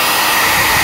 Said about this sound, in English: I'm going to use my hairdryer and dry both of my paintings